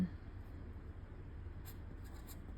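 Pen writing on paper, a soft continuous scratching rub close by over a steady low background hum, with a few faint higher scratches toward the end.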